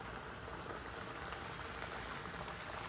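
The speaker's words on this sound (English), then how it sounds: "carefully drop them in the oil, like that" Fish fried in 350-degree oil, a faint, steady hiss and crackle of bubbling grease that runs evenly and quietly throughout, with no talking.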